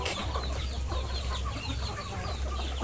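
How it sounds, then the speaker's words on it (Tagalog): Chickens and ducks cluck and chatter continuously nearby while competing for food, a busy overlapping flock with no pauses. "pakita ko sa inyo ang aming mga alaga na mga manok at itik"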